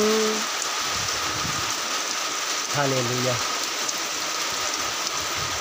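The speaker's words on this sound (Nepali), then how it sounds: "यो झरी जसरी आइरहेको छ" Steady rain falls throughout, a dense even patter, with a short sung voice rising briefly above it near the middle.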